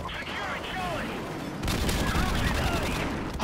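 Gunfire in Call of Duty 4 on the Shipment map, a dense continuous fusillade of game shots that grows louder and fuller partway through, with a person talking over it.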